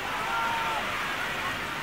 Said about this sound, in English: Once again, torrential rain belts down here.